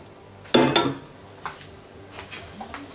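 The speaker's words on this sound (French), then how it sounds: "je vais commencer à mélanger délicatement pour enrober un peu tous les brocolis" Broccoli being stirred in a pan to coat it, a utensil scraping and clinking against the metal in a sharp opening knock followed by several softer, irregular scrapes close to the microphone, with no talk.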